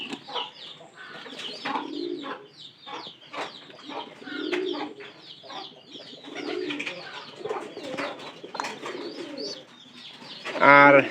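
Pigeons coo in a loft housing their chicks, soft throaty calls repeating in a steady rolling rhythm close by, with some fluttering and rustling, and a brief louder burst near the end.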